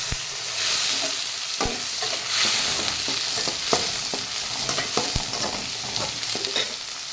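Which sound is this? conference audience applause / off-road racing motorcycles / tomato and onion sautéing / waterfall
tomato and onion sautéing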